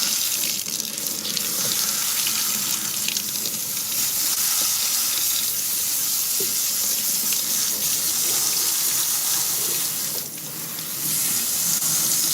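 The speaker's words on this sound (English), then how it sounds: "Now that the rice is washed" Running tap water pours steadily while rice is washed in a kitchen, a continuous close-up hiss and splash with a brief dip near the end.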